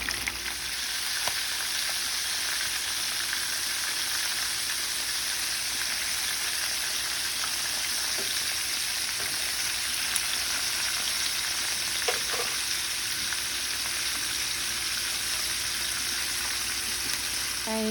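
Puerto Rican crispy fried chicken frying in medium-hot oil, a dense continuous sizzle like steady rain that holds evenly throughout, with a few faint clicks and no voices.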